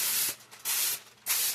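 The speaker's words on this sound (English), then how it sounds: "Make you spray the top of your aluminum foil." Cooking spray hissing onto aluminum foil covering a turkey, two long close bursts separated by a short pause, loud and steady with no voices.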